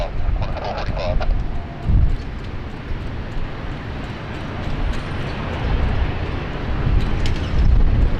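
An airliner takes off on runway 16 Right at Sydney Airport, its broad jet roar heard from outside at a distance, swelling and fading under gusty wind buffeting on the microphone.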